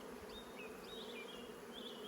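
Honey bees buzzing around a hive on a warm, sunny evening, a faint, continuous hum with individual bees whining past close by.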